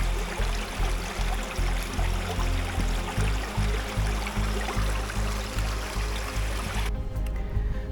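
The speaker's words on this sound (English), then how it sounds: "I came across a small gentle streamlet of clear water which was flowing downhill towards a small forest." A small, gentle streamlet of crystal-clear water runs downhill toward a forest on a Leicestershire countryside trail near Burrough Hill, giving a steady, close trickling hiss with soft rhythmic low thumps underneath, ending abruptly near the end.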